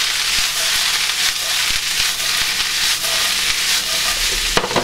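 Cabbage sautéing in bacon fat in a pan, frying with a steady close sizzle while it is stirred and broken up, with scraping strokes repeating throughout.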